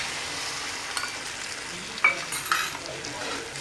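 Chicken chili being stirred in a pan as a cornflour mixture goes in, a steady sizzle with scraping stir strokes and a few louder clinks of the spoon against the pan, no talking.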